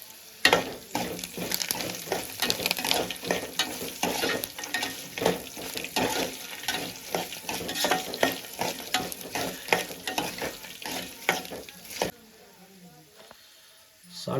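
Semiya pulihora is stirred in a pan with curry leaves and ginger, giving a steady sizzle with rhythmic scraping strokes, continuous and close, fading to quiet near the end.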